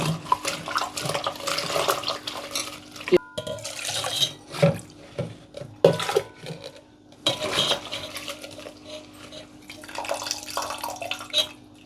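Water splashes and runs into a metal pot, about a glassful, for boiling butterfly pea flowers, with clinks of cookware and a utensil scraping against the sides.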